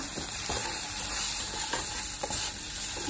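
Paneer is stirred into sautéed vegetables in a hot pan, giving a steady close sizzle broken by repeated scraping strokes of the spoon.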